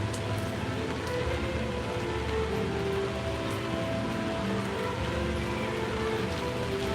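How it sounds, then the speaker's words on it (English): Rain falls steadily at Kings Dominion amusement park, a dense, even hiss of drops on surfaces that stays constant and close throughout with no talking. "It's currently raining here at KD."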